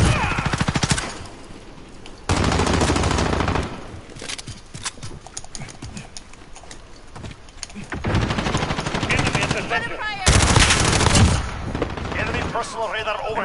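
Video game gunfire with rapid automatic bursts and single shots, loud and close, broken by quieter gaps, with intermittent game sounds between volleys.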